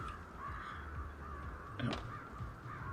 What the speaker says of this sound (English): there's the flock of crows